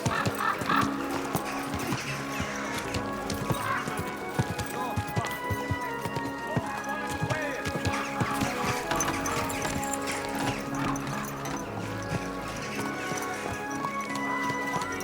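Steady clip-clopping of horse hooves in the video game Kingdom Come: Deliverance II runs throughout beneath a busy, continuous wash of background music and ambient noise, with distant voices.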